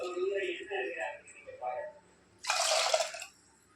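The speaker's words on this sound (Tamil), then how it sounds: "தண்ணி சேர்த்துக்கலாம்." Water poured into a pressure cooker holding overnight-soaked white chickpeas with salt, a short broad splashing burst that stands out clearly after a stretch of talking.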